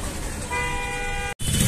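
Car horns blare in heavy city traffic at a crowded clock-tower junction on a Delhi to Dehradun drive, one sustained honk holding steady over dense road noise and engine rumble, close and loud, cut by a brief dropout near the end.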